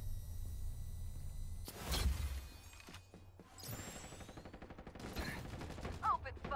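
Video game gunfire cracks in a few loud bursts, with a heavy impact near the start followed by sharp rapid shots and clattering mechanical sounds, while a voice talks briefly over the action.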